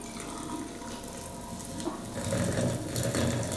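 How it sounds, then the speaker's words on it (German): Hot water from an electric kettle pours steadily into a cup, a continuous close splashing stream that grows slightly fuller toward the end. "das Wasser. Gießen wir natürlich auf."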